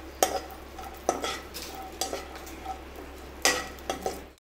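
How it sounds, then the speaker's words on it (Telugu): Raisins frying in ghee for carrot halwa, a light sizzle under several sharp spoon scrapes and clinks against the pan, stirred in short bursts at close range. "ఇందులో మనం ఎండుద్రాక్ష కూడా ఫ్రై చేసుకున్నాము."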